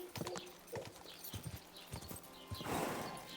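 Horse hooves clip-clop in the medieval role-playing video game Kingdom Come: Deliverance II, a fairly close run of uneven thuds with a short whinny-like burst and scuffle near the end. No one speaks.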